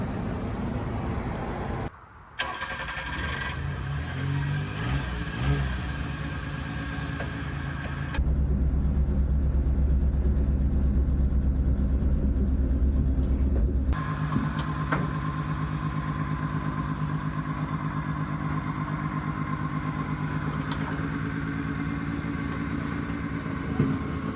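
A small Japanese kei truck runs and drives on a farm, its engine idling and revving with some clatter, changing character midway as the drive continues.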